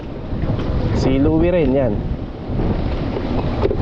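Strong typhoon wind roars steadily as a loud, constant rush across the microphone, with a person briefly talking over it partway through.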